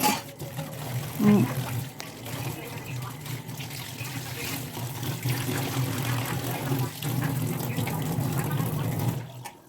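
Water runs from a tap into a basin while dishes are washed, a steady gushing flow that continues throughout, with a voice faintly in the background.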